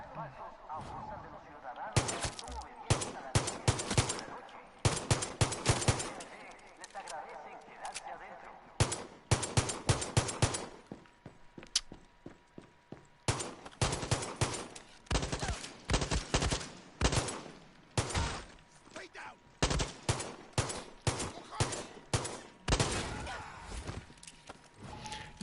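Rapid gunfire in the Far Cry 6 shooter: dense volleys of loud, close shots in bursts, with short pauses between clusters, repeating throughout.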